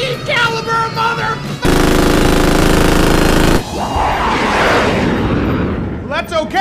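A rapid burst of .50 caliber machine gun fire, loud and continuous for about two seconds, with voices before and after.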